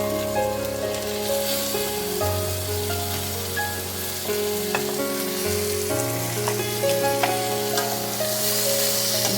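Pointed gourd and potato pieces fry loudly in a pan while being stirred, a continuous close sizzle with clatter of utensil strokes and a steady background hum, no voices.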